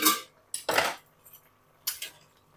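Metal lid lifted off a cooking pot of shukto, three sharp clanks and scrapes spaced over a couple of seconds, close and clear against a quiet background.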